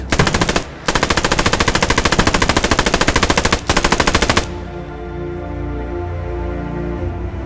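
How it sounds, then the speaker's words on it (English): Heavy machine gun firing in the WWII shooter game Post Scriptum, loud rapid bursts of evenly spaced shots with two brief pauses, then a ringing, echoing tail as the firing stops. "Now the heavy machine gun is taking shots."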